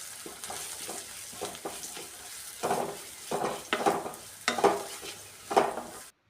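Spices fry in a pan while being stirred, with rhythmic scraping strokes over a soft sizzle that grow louder in the second half, close up without speech.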